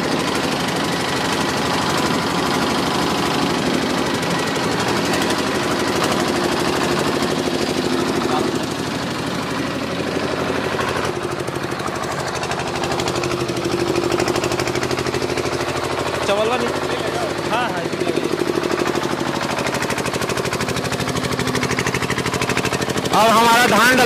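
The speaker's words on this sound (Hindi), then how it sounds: "तो सर आपने देखा हम लोगों ने इंजन चालू कर लिया," A new mini rice mill's engine runs steadily with a rough, knocking mechanical chug, loud and close throughout, while people speak over it.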